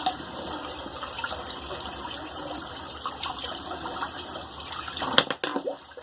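Cold water runs steadily from a bathroom sink tap for a face rinse, a constant close gush that stops abruptly near the end, followed by a few splashes and drips.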